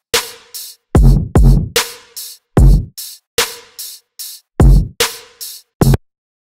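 Electronic drum pattern from a remake, with punchy kicks and snares against crisp hi-hat ticks in a steady, syncopated groove, loud and alone.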